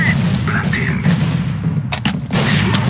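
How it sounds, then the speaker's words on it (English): Grenade blast in the video game CS:GO, a loud boom among repeated gunfire bursts with voices talking underneath throughout. "Grenade!"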